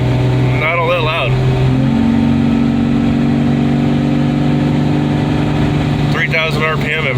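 A Jeep's exhaust idles steadily at a traffic light on a slight uphill, a continuous low rumble with steady tones that holds throughout. Brief voices come in near the start and again at the end.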